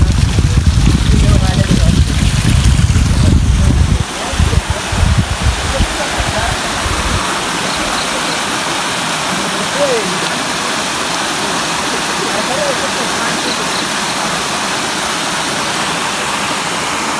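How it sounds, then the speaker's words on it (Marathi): A small waterfall beside the trail on the Rajgad fort trek gives a continuous broadband rush of falling water. Heavy low rumbling handling or wind noise covers the first few seconds, then the water continues evenly. "हे बघू शकता धबधबा. छोटेसे आहेत पण धबधबे आहेत."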